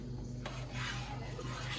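A thick flour-thickened pepper spread being stirred in a pot for home canning, with a steady rasping scrape of the spoon against the pot in a repeated rhythm, close and fairly loud, with no voices.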